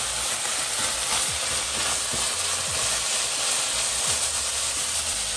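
Food fries steadily in a pan with black pepper and herbs while being stirred, giving a continuous close sizzling hiss marked by a few soft scraping taps.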